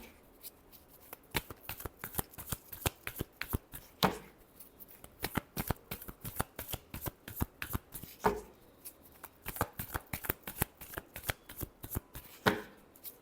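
Tarot cards shuffled by hand, close and fairly quiet, with quick riffling clicks and several louder bridging flutters repeating through the clip.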